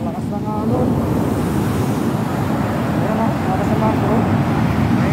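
Strong ocean waves crash and roll onto a shore, a loud, dense wash of surf with heavy wind buffeting the microphone and faint voices under the roar.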